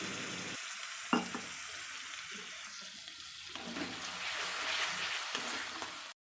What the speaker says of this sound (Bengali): আমি একটু জল দিয়ে দিচ্ছি হালকা করে সামান্য এবার ভালো করে নাড়িয়ে নিচ্ছি